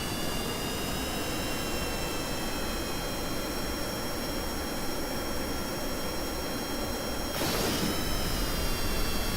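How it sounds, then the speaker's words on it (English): Jet fighter afterburner roaring in a video game dogfight, a loud steady broadband engine rush with high whining tones, swelling slightly near the end, with no talking. "Let's go afterburner."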